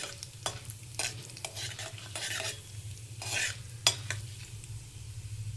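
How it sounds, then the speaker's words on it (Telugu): Mustard seeds, cumin and urad dal sizzle in hot oil, close and continuous, broken by several sharp spoon-stirring scrapes and clinks over a low steady hum. "ఆయిల్ హీట్ అయింది. ఆవాలు, జీలకర్ర, కొంచెం మినపప్పు. ఇది కొంచెం ఫ్రై అవ్వాలి."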